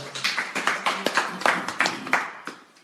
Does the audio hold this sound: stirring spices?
no